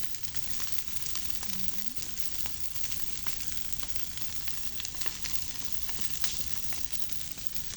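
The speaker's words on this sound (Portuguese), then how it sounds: "Outra fogueira de novo." A campfire at a campsite crackles and hisses steadily, with dense sharp pops and snaps over a constant rushing noise, close and continuous with no voices.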